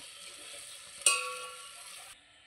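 Maggi noodles stirred with Maggi masala in a hot pan, one sharp scrape followed by about a second of soft sizzling stirring, then quiet.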